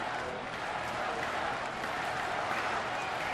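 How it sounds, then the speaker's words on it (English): A baseball crowd at a Giants–Pirates game in Pittsburgh applauds and cheers after a home run, a steady wash of clapping heard from a distance at moderate level. "that home run really got this crowd going again"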